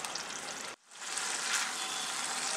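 Fried potatoes being sautéed in spice paste for a papad curry, a dense frying hiss that cuts out briefly, then returns steady and bright, close by.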